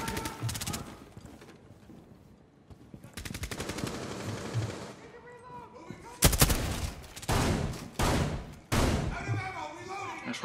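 Automatic gunfire in Rainbow Six Siege, a Terrorist Hunt match on Hard at Herford Base, comes in loud, rapid bursts with some single shots between them, and a voice talks over parts of it.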